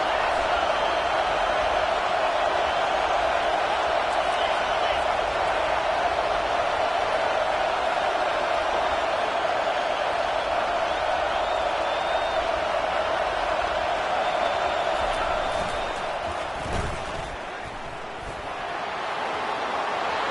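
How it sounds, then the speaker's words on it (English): Stadium crowd at a Navy football game, a steady, broad roar of cheering sustained for about fifteen seconds before easing slightly, with a commentator's voice over it. "This crowd knows when to bring it."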